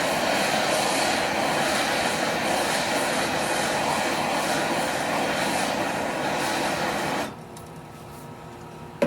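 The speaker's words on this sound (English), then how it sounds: "I'm going to go over and preheat this one with the torch" A torch roars steadily and loudly while preheating an aluminum piano hinge ahead of TIG welding, burning off oil from the hinge, then cuts out abruptly near the end, leaving quiet room tone.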